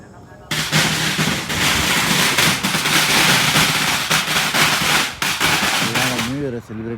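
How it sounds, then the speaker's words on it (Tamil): Firecrackers burst in rapid, crackling volleys during New Year celebrations at a Pattaya viewpoint in Thailand, a loud sustained barrage with sharp pops and a short quiet gap before it, while a voice is heard near the end. "எல்லாம் நியூ இயரை செலிப்ரேட் பண்ணுறாங்க பட்டாசு வெடிச்சு."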